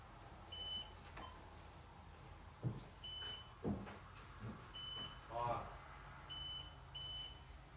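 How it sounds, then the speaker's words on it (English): A ghost-hunting detector device in a haunted farmhouse gives short, high electronic beeps, repeating every second or so in small pairs, faint under soft knocks, shuffling and quiet voices. "When you hear that beep, it means something is, like, passing in front of it."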